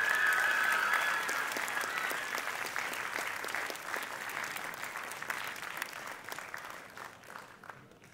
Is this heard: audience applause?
yes